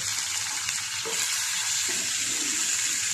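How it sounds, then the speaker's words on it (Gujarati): Gum berries sizzle as they are tempered in hot oil with asafoetida, a steady, fairly loud hiss with light stirring sounds and no voices. "આ ગુંદા બધા હું આમાં વઘાર કરીશ આ રીતે"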